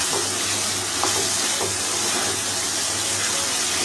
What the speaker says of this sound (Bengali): 5 থেকে 6 মিনিট আমরা হাই ফ্লেমে এটাকে ভেজে নেব